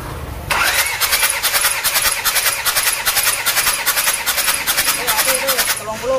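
An engine cranks on its starter during a cylinder compression test, with a loud, rhythmic chugging that begins abruptly and repeats steadily for several seconds close by, as voices talk faintly in the background.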